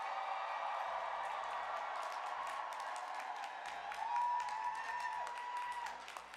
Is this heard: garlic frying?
no